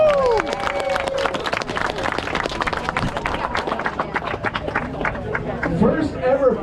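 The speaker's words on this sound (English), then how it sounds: "Let's give those folks a round of applause." Crowd applause and scattered cheering at a Spartan Race awards gathering, steady and fairly loud throughout, with a voice briefly audible near the start.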